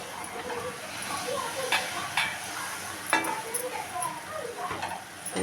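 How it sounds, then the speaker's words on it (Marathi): Semolina is stirred into a pan for rava vadi, a sweet. A spoon scrapes and swishes in uneven strokes over a soft continuous sizzle, with a few sharper clinks against the pan. "आता आपल्याला हा जो रवा होता तो त्याच्यामध्ये घालून अशा पद्धतीने व्यवस्थित रवा घालून मग मिक्स करून घ्यायचं आहे"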